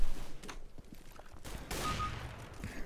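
Gunfire in the CS:GO video game, a few sharp shots followed by a louder burst of fire midway, with game ambience and clicks around it.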